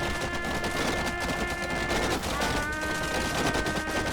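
Musket volleys in an Alexander Remastered battle: steady, dense crackling gunfire that rattles on without a break, fairly distant and even in level.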